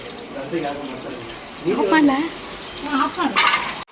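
Spices frying in a pan while a pulao is cooked, a soft close sizzle with stirring scrapes that swell in two bursts, under a quiet room.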